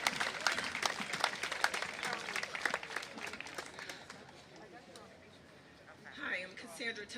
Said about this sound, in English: please give a big round of applause for Cassandra Tucker.